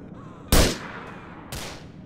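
Two rifle gunshots fire in GTA IV, a sharp loud crack followed by a second slightly softer shot about a second later, each with a short decaying tail over quiet game ambience.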